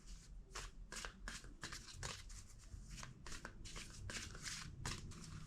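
Quiet, close riffling and slapping of tarot cards being shuffled in repeated quick bursts, with no talking.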